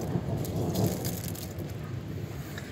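Heavy rain keeps pouring in the wake of a hailstorm that wrecked a tomato patch, a steady dense hiss of downpour close by with a slight swell near the start.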